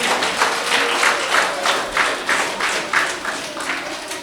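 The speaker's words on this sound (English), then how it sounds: "Give yourselves a clap for that." Primary school children clap together in a steady rhythm, each beat landing roughly twice a second in unison, moderately loud, with softer scattered claps between the beats.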